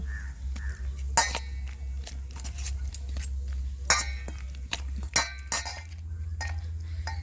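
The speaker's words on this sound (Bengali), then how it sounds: "চামচের ঠিক ব্যাটারটা মাখানোই হচ্ছে না" A spoon mixes cauliflower pakora batter in a bowl, giving irregular, close clinks and scrapes against the bowl, some sharper than others, with no talking.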